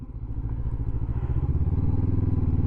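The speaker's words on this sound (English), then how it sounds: "Oh, it's going gravelly." A Honda CB500X motorcycle rides onto a gravel lane, its steady mid-pitched engine drone joined by continuous low crunching and clatter from the loose surface, growing slightly louder and fuller toward the end.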